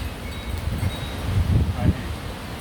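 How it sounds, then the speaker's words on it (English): Strong gusts of hurricane wind during Hurricane Ian roar and buffet the microphone, rising to a loud peak in the middle, with low rumbling and rustling throughout. "That gust of wind took my breath away."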